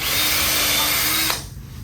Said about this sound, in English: now we're gonna do all of our screws at the same time.